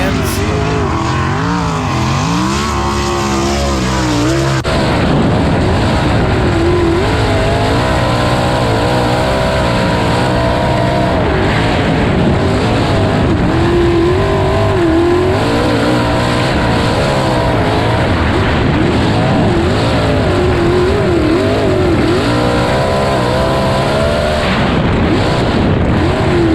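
USAC sprint cars race during qualifying, their engines roaring loudly and continuously with rising and falling pitch as cars pass the grandstands, heard from the stands throughout.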